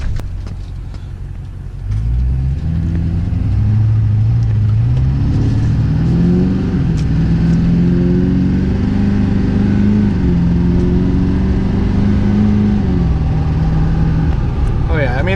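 A 2004 Chevy Duramax diesel truck accelerating from inside the cab, its engine note rising sharply after about two seconds and then climbing through the gears as a loud, sustained drone.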